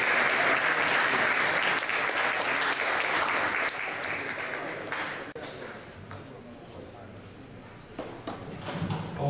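An audience at a youth activism conference in Ottawa applauds to welcome a speaker, a dense sustained clapping that thins out and fades, with voices faintly under it.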